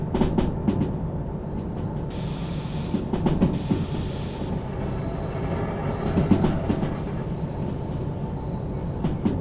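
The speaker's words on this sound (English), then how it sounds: "something was screeching. That is sound suggestion that you're going too fast and you're close to derailing" Train wheels screech under steady rolling rail noise in the Derail Valley video game, a thin high squeal running through most of the stretch over continuous clattering rumble.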